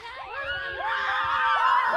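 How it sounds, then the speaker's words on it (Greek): A crowd of around twenty children shouting and shrieking together outdoors, a dense, loud, continuous chorus of high overlapping voices that swells slightly toward the end. "Φωνάζουν τα παιδάκια."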